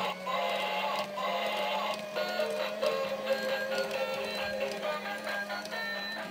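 A Thomas bubble machine toy plays a tinny electronic tune over a constant motor hum, the melody bright and steady, loud and close.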